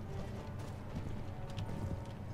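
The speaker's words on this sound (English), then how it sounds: "Stupid horses, go away." Horse hooves gallop in a medieval battle in Mount and Blade: Warband, heard as a steady, fairly faint clatter mixed into constant low battle noise.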